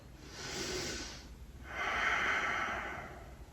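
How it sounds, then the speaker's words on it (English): During a yoga practice, a single slow breath is drawn in and then let out, each a soft, close, airy rush about a second long with a short pause between them. "Notice the inhale, notice the exhale. One more breath."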